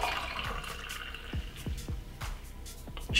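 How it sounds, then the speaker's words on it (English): Celery and lemon juice is poured into a glass, producing a run of small liquid plops and gurgles in an uneven rhythm, close and fairly quiet. "Just pour it into your glass."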